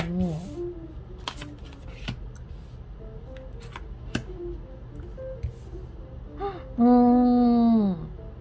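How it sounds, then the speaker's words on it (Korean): Tarot cards are shuffled and drawn in soft, brief rustles and snaps, heard close up under a quiet, intermittent voice, with a drawn-out vocal tone near the end. "그리고 추가 카드로 여러분들과 상대방 한 장씩 더 뽑아보도록 하겠습니다."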